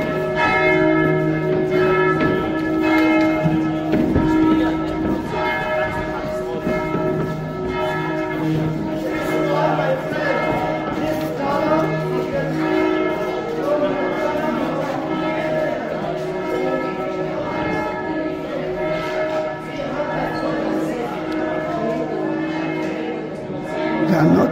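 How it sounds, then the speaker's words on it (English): Church bells ring continuously at the Church of the Holy Sepulchre in Jerusalem, a dense layered peal of overlapping tolls that fills the space steadily for the whole stretch, loud and reverberant with crowd murmur underneath. "You can hear the bells now."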